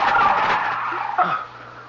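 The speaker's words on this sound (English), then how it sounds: "The flamingos. The birds." A flock of flamingos attacks in a radio drama sound effect, a burst of harsh squawking and honking cries that is loud at first, then thins into a few scattered calls and fades.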